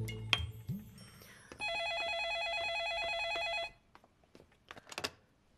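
A telephone rings indoors with one sustained electronic ring burst lasting about two seconds, preceded and followed by soft clicks and handling noises, with no talk during the ring.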